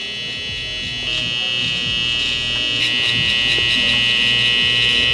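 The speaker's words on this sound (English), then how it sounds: "I'm using this trimmer on purpose because the blade is a lot skinnier" A skinny-bladed hair trimmer buzzes steadily and close up with a high whine while cutting a low burst fade, and the tone shifts slightly as the blade moves through the hair.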